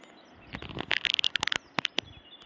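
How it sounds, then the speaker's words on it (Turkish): Quick, bright bird chirps in rapid clusters, fairly close, over faint rustling in a quiet forest of old hornbeam trees on a hill above a stream in Kirazlı. "cıvıl cıvıl kuş seslerinin"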